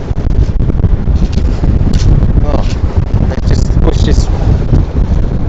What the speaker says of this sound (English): I don't mind the wind. Unfortunately, it's just in the wrong direction.